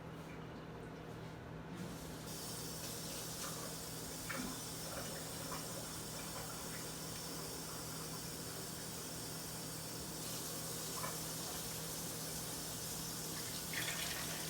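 Tap water runs into a cooking pot over chicken thighs for gumbo, a faint, even, continuous flow with no pauses, heard quietly from a short distance.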